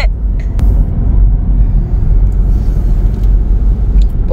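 A car drives along a road near Prince George, BC, in the first snowfall, heard from inside as a loud, steady low rumble of engine and tyre noise with faint brief clicks.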